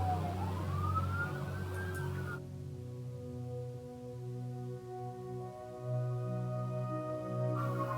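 A fire engine siren wails from outside, a steady rising and falling tone heard indoors at moderate distance. A low mechanical hum sits underneath.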